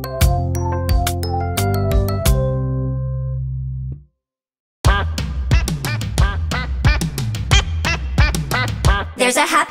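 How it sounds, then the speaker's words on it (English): Cartoonish quacks from a duck in a children's song ring out in quick rhythmic bursts over bouncy music, stopping for a brief silence before a faster string of quacks resumes. "She is dancing, quack, quack, quack."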